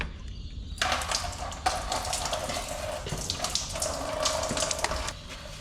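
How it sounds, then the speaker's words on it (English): Power steering oil drains and splashes steadily from the pump of a Toyota Land Cruiser HZJ75, a continuous close trickling gush that runs on for several seconds. "now that oil's drained out"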